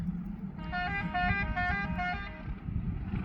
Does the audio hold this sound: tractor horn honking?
yes